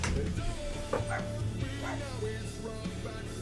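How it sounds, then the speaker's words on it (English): Dogs barking and yipping in a home, a few short, close barks and whimpers scattered across the moment, mixed with some background voice. "The stupid dogs that bark at everything."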